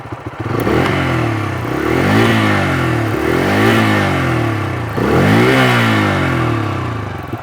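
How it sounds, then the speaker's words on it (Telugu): Bajaj Freedom 125 motorcycle running on CNG, its exhaust note loud and close, revving up and settling in repeated surges with a steady mid-pitched engine drone throughout. "సిఎన్జికి షిఫ్ట్ అయినా సరే మీకు సేమ్ ఎగ్జాస్ట్ సౌండ్ అయితే వస్తూ ఉంది."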